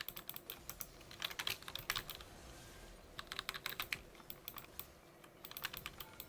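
Computer keyboard keys are pressed during a game in quick, irregular bursts of clacking, fairly faint and close, with short pauses between flurries and no talking.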